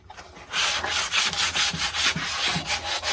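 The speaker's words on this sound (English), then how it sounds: "I've got some 80 grit on this pad here that I just hit that lightly with some sandpaper" Light hand sanding of wood with 80 grit sandpaper on a pad, a steady run of close, rhythmic scratchy strokes with no talk.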